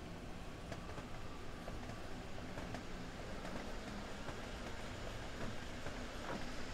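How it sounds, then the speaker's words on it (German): An S-Bahn train departs in the Train Sim World 3 video game on the Rhein-Ruhr line, a steady, faint rolling rumble with soft rail clicks and ambient hiss, no voices. "So, die S-Bahn fährt jetzt rechts aus."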